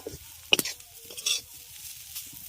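A ground spice mix is stirred into frying onion and bitter gourd in a pan, with a few sharp spoon scrapes and taps over a quiet sizzle, close by and without talking.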